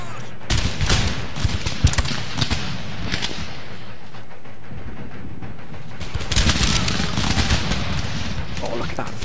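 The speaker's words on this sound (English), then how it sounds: "Oh, look at that volley right into the ranks!" Musket volley fire in the video game Empire Total War, dense crackling rounds of many muskets firing together in two main waves with rumbling battle noise between, partly under a voice.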